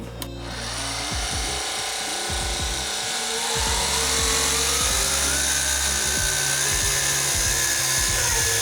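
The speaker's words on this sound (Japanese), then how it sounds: "こういうオービット小さめのやつでいくってことですね磨いていくっていう感じですね" A small orbital polisher works on car paint, starting up early and holding a loud, steady mechanical whine that edges slightly higher as it runs.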